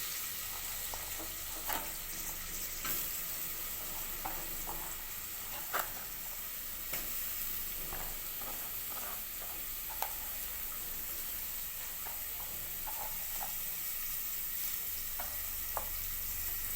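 Chopped onions fry in a pan with asafoetida, a continuous moderate sizzle broken by sharp utensil taps and stirring clicks scattered throughout, with no talking.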